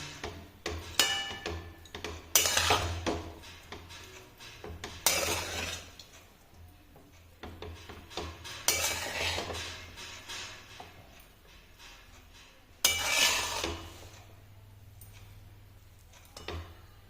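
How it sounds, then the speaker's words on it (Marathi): Rice for pulao stirred in a kadhai with the gas off, heard as occasional scraping bursts and light clinks of a spoon against the metal, spaced by quiet gaps, close and without talk. "यावर भात टाकायचा आणि मिक्स करून घ्यायचं"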